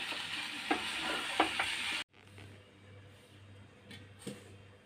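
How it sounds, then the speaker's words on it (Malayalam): Chicken pieces fry in a pan, a loud crackling sizzle with a few sharp stirring scrapes, then it cuts abruptly to a much quieter, low background hiss with occasional clicks. "ഇനി നമുക്ക് ചിക്കൻ ഇട്ട് കൊടുക്കാം"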